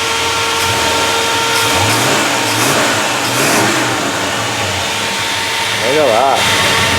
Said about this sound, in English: It sounds like a truck would sound like.